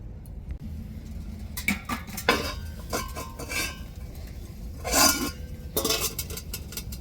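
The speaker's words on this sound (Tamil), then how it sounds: "இதை நம்ம தட்டை போட்டு மூடிடுவோம்" A plate is set over a pot of simmering fish curry, producing a series of close metallic clinks and scrapes of dish against cookware over a low background hum, with no talking.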